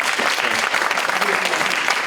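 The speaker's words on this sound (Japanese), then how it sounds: "네, 박수를 한번 부탁드리고요" Audience applause at the closing ceremony of a Korean–Japanese theatre festival, a dense wash of many hands clapping steadily and fairly loud throughout.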